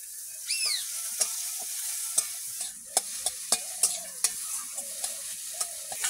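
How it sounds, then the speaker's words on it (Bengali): Potatoes frying in a pan, a steady broadband sizzle with scattered sharp clicks and clinks of a utensil against the pan, moderately close with no talking. "ভেজে নেব।"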